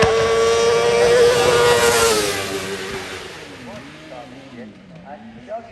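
Hill-climb race car number 83, an X-Mark Slanker, roars loudly up the Shelsley Walsh course, then its engine note falls away into the distance, fading under background noise with a brief blip near the end.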